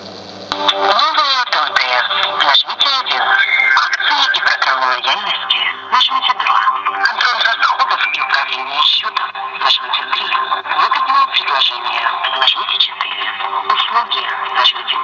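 A Nokia X2-02 phone's loudspeaker plays music loudly and continuously, with a thin, bright, tinny tone that stays steady throughout.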